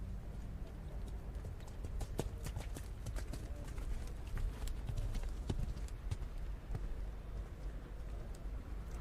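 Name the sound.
horse hooves during dressage test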